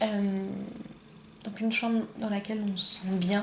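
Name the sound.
cat purring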